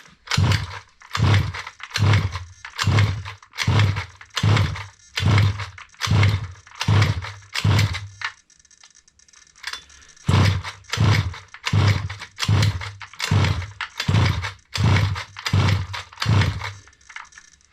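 Petrol engine of an HPI Baja 5B 1/5-scale RC buggy being pull-started, with a steady run of loud, rhythmic rasping pulls, a short pause partway through, then another series of repeated pulls.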